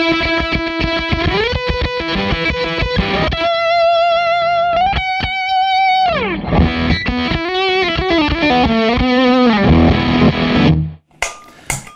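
Fuzz-driven electric guitar through a Fuzz Face pedal plays sustained high notes and bends, loud and close, with sliding pitches, choppy runs and wavering vibrato, ending in a sudden cutoff and a brief crackle.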